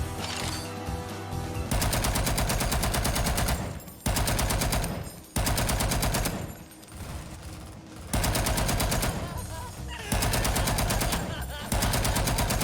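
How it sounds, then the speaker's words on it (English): An MG2 machine gun fires long sustained bursts in the video game XIII, loud and continuous with short pauses between volleys. "just to give me a reason to defend segment with a fucking MG2!"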